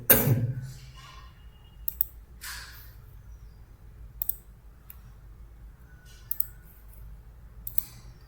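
Mouse clicks while working in Maya 3D software, a handful of sharp, quiet isolated clicks spaced a second or two apart over a low steady hum, with no talking.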